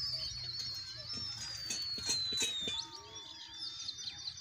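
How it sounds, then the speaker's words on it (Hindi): Pigeons chirp and coo in the open air in a village near a brick kiln, with a steady low rumble of machinery underneath and soft fluttering sounds. "कबूतर लोग उड़ा रहे हैं।"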